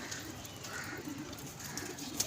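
Faint, soft cooing of pigeons kept at a pigeon club, low murmuring calls under a quiet background hum, brief and distant.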